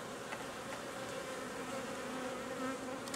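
Honeybees buzzing among hive frames, a steady continuous drone that stays even and close throughout, with no voices over it.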